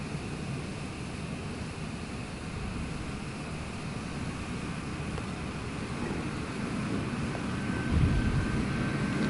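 Aircraft taking off in Microsoft Flight Simulator 2024, a steady broadband engine roar at moderate distance that swells slightly toward the end, with no talk over it.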